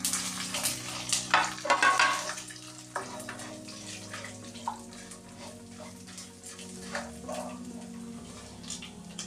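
Roughly crushed garlic goes into hot oil in a frying pan and is stirred in, with a steady sizzle, spoon scrapes and clatter, louder at first and then settling into a continuous fry.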